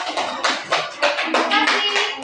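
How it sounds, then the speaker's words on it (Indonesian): Classroom students clap together for a classmate, a quick run of bright, fairly close hand claps in uneven bursts with no talking over it. "Baik, tepuk tangan."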